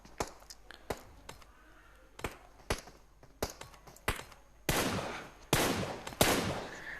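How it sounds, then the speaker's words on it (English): Gunfire in a battle royale video game: evenly spaced single shots crack out one after another, then give way to denser bursts of rapid fire. "They are firing some shots."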